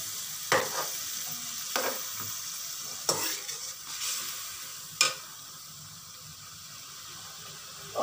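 Chicken karahi sizzles softly in a pan while a utensil scrapes and stirs in a few distinct strokes, with quieter frying between them, close by and without talk.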